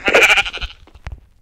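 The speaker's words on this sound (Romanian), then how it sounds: "Oaie, oaie, mori, mori!" A sheep in the Minecraft video game gives a short nasal bleat, loud and close, followed by a softer thud.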